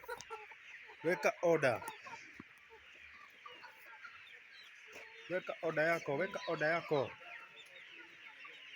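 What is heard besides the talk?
brown commercial layer hens clucking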